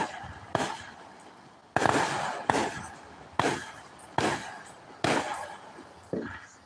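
Fourth of July fireworks at Al Rollins Park give about seven sharp bangs spaced roughly a second apart, each trailing off into a rumbling echo, moderately distant with faint background noise.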